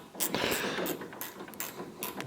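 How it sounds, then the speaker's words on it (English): Truck battery being tightened down into place, a run of close metallic ratcheting clicks and short bursts of tool noise in an uneven rhythm, with no talk. "Just tightening the battery down into place."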